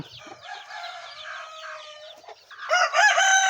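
Backyard chickens cluck and call nearby, a drawn-out crowing or squawking tone first, then louder, busier clucking toward the end, no voices present.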